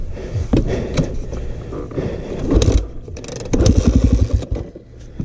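A KTM enduro motorcycle at an enduro race coughs and sputters as it tries to start, with loud uneven bursts, mechanical clatter and scraping, and a short rapid run of firing pulses before dying down.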